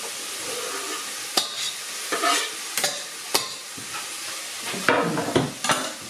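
Chopped garlic tossed in with onion in a pan over medium heat for a vegetable risotto, giving a close, steady sizzle with sharp clinks and scrapes of stirring scattered throughout.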